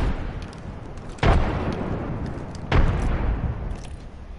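Two heavy explosions from frag grenades in Apex Legends, each a sharp loud boom over a low rumbling background, spaced about a second and a half apart with no talking.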